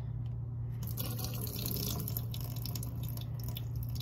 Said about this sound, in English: So now we're gonna drain the water.